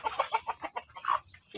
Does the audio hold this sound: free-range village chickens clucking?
yes